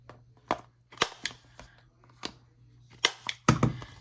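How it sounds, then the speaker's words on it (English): A corner rounder punch clips the corners of a laminated planner sleeve, making several sharp, close snaps at uneven intervals, with quieter handling rustles between them. "And then I just go in and I round the corners."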